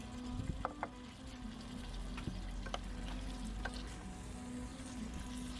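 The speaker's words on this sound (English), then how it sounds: "So these get stirred along with the meats for a minute" Torn potato chunks are stirred with meats in a sizzling pot for an authentic Spanish potato stew, making a soft, steady frying hiss with light scraping and occasional faint clicks of the spoon, fairly quiet and close.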